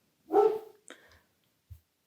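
A dog gives one sharp bark, followed by a shorter softer yip and a faint thump, all in a quiet room with no talking.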